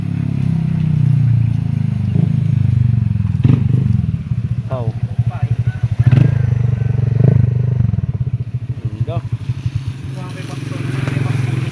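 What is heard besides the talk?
motorcycle revving with Zeus Apollo v3 exhaust pipe, no silencer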